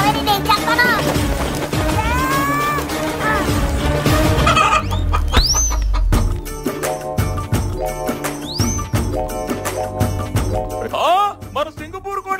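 Roosters cluck and squawk loudly at a village cockfight during the Sankranti festival, with repeated sharp calls and thumping scuffles amid busy background noise and people talking.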